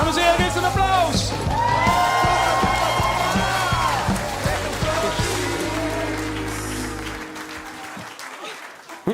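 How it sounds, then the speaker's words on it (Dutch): An audience at the Limburg pop awards ceremony breaks into loud applause with cheers and whoops, clapping dense and steady before slowly thinning out; a voice speaks briefly over the crowd. "Dames en heren, geef een applaus!"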